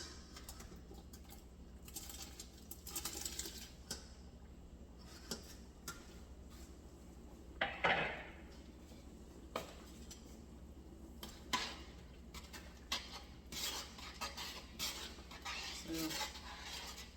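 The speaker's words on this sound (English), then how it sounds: "The meat has boiled, so now we're just gonna drop it into the soup." Boiled meat going into a pot of homemade soup produces scattered clinks and knocks of utensils against the pot, with a soft splash midway, under a low steady kitchen hum, fairly faint and irregular.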